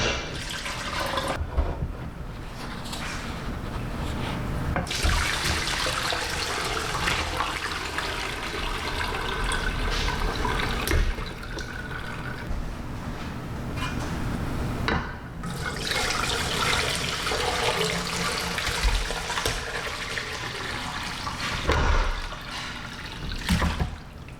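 Water gushes steadily from a tap into a large metal stock pot for bone broth, a continuous loud splashing rush that runs throughout with small shifts in tone, and no talking.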